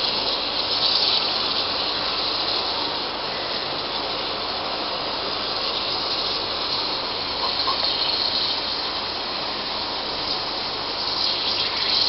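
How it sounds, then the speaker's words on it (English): Steady, dense sizzling and hissing of jackfruit seeds frying in hot oil, continuous and fairly loud with no talking throughout. "Should be a bit careful while frying this."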